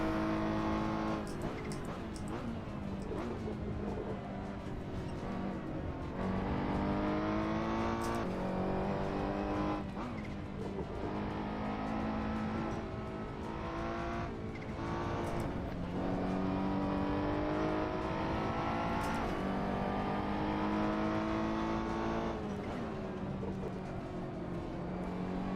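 A race car engine in Assetto Corsa, loud and continuous, revving up through the gears with repeated rising pitch sweeps and sharp shift breaks, close and alone.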